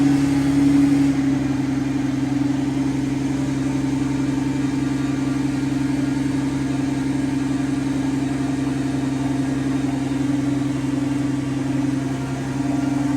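A Mercedes S-Class V12 runs steadily and close, a deep continuous drone with a strong low hum throughout and no clear start or rev rise, with exhaust noise steady and no voices.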